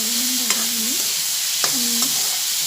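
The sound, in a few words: frying and stirring dal (lentils) in a pan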